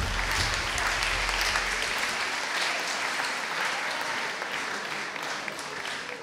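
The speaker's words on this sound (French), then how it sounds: "Et on les applaudit très fort, tous les 5." Audience at a real estate awards ceremony in Paris applauding the five nominees, a dense steady wash of clapping that stays loud throughout, with no talking over it.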